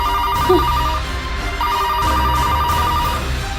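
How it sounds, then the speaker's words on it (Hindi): A telephone rings in two trilling bursts separated by a short pause, over a low background hum. "फोन बज रहा है।"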